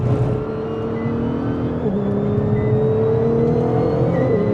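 A 1000hp Nissan GTR race car engine drones loud and steady on track, its pitch holding high with a brief dip and recovery about halfway through.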